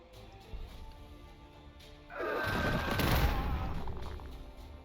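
A plasma grenade goes off in the strategy game Warhammer 40,000: Gladius, a booming burst that swells into a sustained roaring, crackling blast over low game ambience and then slowly tails away.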